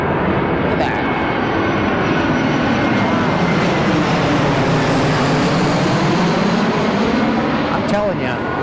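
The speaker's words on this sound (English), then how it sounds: "There's another airplane." Airplane passing overhead near McCarran airport in Las Vegas, a loud sustained engine roar that swells and fades, with people talking over it.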